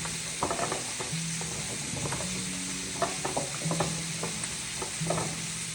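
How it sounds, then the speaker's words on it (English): A glaze is worked into food by hand, producing soft wet squelches and scattered clicks in short bursts over a low steady hum. "then I'm just going to mix that up with my hand"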